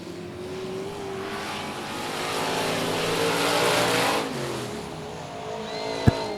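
Race cars circle a dirt oval at Cotton Bowl Speedway, their engines droning at a distance and swelling as they pass, then fading. A sharp click cuts in near the end.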